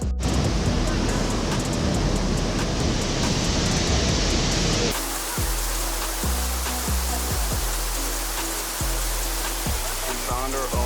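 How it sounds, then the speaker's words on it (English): Waterfall in Ubud, Bali: steady loud broadband rush of falling water filling the whole clip, the first half denser, then continuing with some low thumps and handling bumps. "We found our own waterfall."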